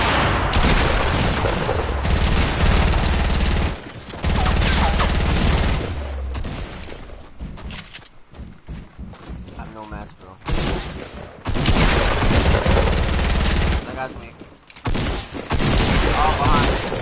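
Dense bursts of gunfire from Fortnite gameplay, loud and near, coming in long volleys with short lulls, with someone talking over parts of it.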